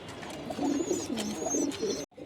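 A pair of pigeons in a loft coo softly during pairing, low rolling murmurs repeating in close succession with faint higher chirps above, ending in an abrupt cut.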